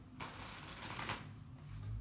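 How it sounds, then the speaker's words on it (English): A pack of playing cards is shuffled during a late-night magic trick, a quick close riffle of flicking cards lasting about a second, no talking. "let's even give the pack a shuffle"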